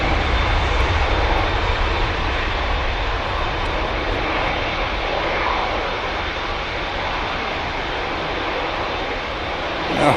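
A Ryanair jet at Manchester Airport roars steadily with a broad, continuous engine rumble that holds loud and even across the whole stretch, with no voices over it.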